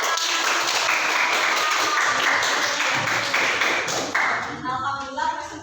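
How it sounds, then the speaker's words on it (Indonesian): A small audience claps together after a classroom presentation, a dense, steady patter of hands that holds for several seconds before thinning out near the end. "Beri tepuk tangan."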